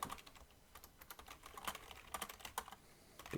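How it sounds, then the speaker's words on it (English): Rapid typing on a computer keyboard, a steady patter of close, light key clicks with no voices. "I'm firing myself from typing the word because."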